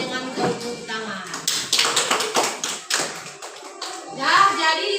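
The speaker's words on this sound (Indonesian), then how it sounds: "kita ucapkan terima kasih dengan tepuk tangan" Applause from a gathered audience thanking a group at an Islamic talk, a scattered patter of hand claps mixed with children's voices and chatter throughout.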